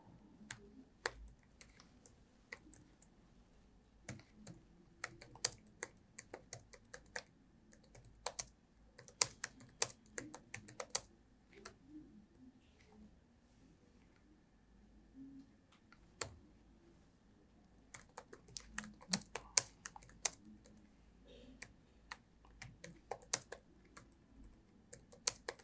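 Computer keyboard clattering with C code being typed, a long run of quiet irregular keystrokes in bursts with pauses between and no voices.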